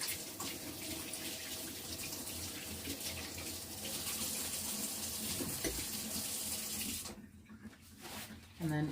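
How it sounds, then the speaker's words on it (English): A kitchen tap runs steadily while someone washes their hands, a continuous splashing rush up close that stops near the end. A voice is faintly present underneath. "Now let me wash my hands."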